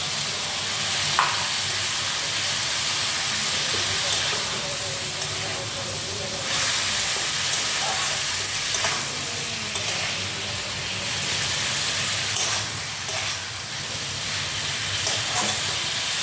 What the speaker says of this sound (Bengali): এখন এই পুরো জলটাই দিয়ে দিলাম।